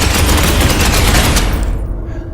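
Loud, dense burst of rapid gunfire from Space Hulk: Ascension, a Warhammer 40K tactical video game, with sustained broadband crackle and booming low end for about a second and a half, then an abrupt cutoff into a lingering low rumble.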